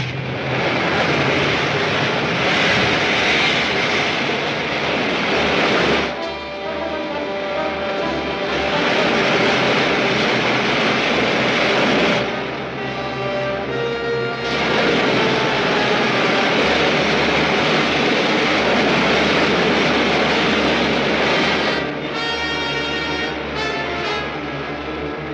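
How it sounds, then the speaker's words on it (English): Rocket ship main jets fire with a loud, continuous roaring rush broken by a few short cuts and restarts. "Firing main jets."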